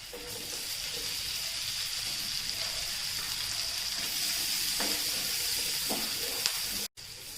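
Chopped onions fry in hot oil over a high flame for Egg Manchurian, producing a steady, loud sizzle that carries throughout, with a few faint stirring knocks and a brief cutout near the end.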